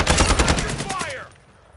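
Rapid automatic gunfire from a Call of Duty battle, dense and loud for over a second before cutting off, with a brief voice heard amid the shots.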